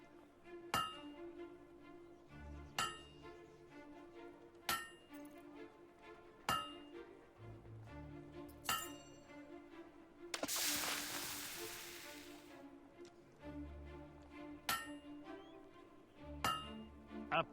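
In the video game Fable 2, a hammer strikes a blade at a forge in a steady series of metallic clanks about every second, each ringing briefly, with a hissing whoosh of quenching or bellows midway.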